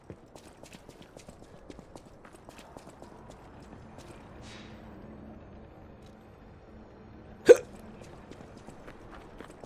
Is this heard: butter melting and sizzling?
no